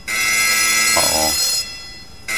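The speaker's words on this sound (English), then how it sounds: "Flare and alarm." An alarm going off as a flare is triggered in the Arma 3 video game, a loud steady electronic ringing tone that holds for about two seconds before dropping away, with no talking.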